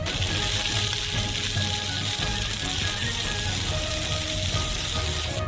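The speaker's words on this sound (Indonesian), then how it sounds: "Goreng daging babi terlebih dahulu." Pork frying with onions in sesame oil in a wok gives a steady, loud, close sizzle with faint stirring scrapes and no voices.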